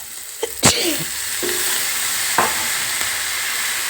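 Chopped onion and tomato frying in oil in a pan, with a steady close sizzle and hiss, a few sharp clatters and a scrape of stirring early on.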